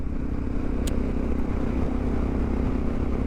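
A motorcycle riding along a highway in the Netherlands, a loud, steady engine drone mixed with rushing wind, close and continuous throughout with no talking.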